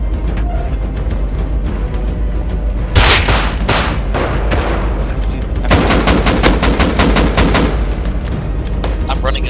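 Dense gunfire during a fight in Rust, loud rapid bursts of automatic shots with heavy flurries clustered together, some booming impacts, continuous and close.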